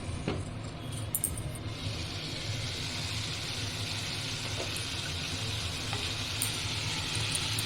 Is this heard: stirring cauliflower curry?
yes